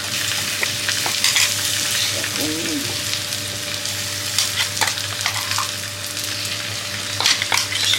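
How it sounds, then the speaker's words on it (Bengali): Prawns, green chillies and poppy seed paste fry in a pan with a continuous close sizzle and occasional clinks and scrapes of stirring, with a voice briefly heard. "এবার চিংড়ি দিয়ে দিচ্ছি, সঙ্গে লঙ্কা দিয়েছি দুটো। আর এবার পোস্তটাও দিয়ে দিচ্ছি।"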